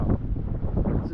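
Strong wind buffets the microphone at a fishing harbour in Okinawa, a low continuous rumbling roar with gusty swells and no voices.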